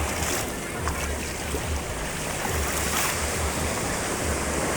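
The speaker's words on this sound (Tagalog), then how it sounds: "Ayan oh, ang lakas ng alon." Strong ocean surf at Stanley crashes in a continuous loud roar with wind buffeting the microphone, close and steady throughout.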